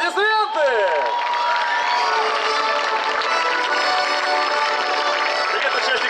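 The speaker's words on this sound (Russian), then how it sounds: "Ваши аплодисменты!" A forum audience at a youth event opening bursts into applause and cheering after an announcement, a dense continuous wash of clapping and crowd noise that stays loud throughout.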